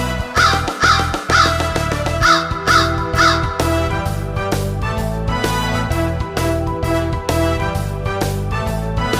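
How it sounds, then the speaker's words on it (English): Loud cawing of a big black crow in a short series of harsh calls over the first few seconds, set against loud music with a heavy beat that continues throughout. "Big black crow, you're a noisy bird."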